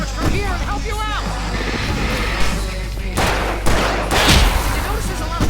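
Fireworks going off in a shooter video game, bursts of crackling blasts and booms mixed with whistling sounds, loud and close, with a voice talking over the din.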